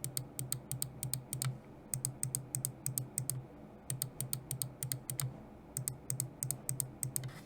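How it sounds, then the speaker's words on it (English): Side buttons on a Lofree Hypace mouse clicking with a Wano black-shell white-dot switch, in a quick steady series of close, crisp clicks in small groups with short gaps, and no talking. "In terms of click audio, here's a quick sound test for the side clicks."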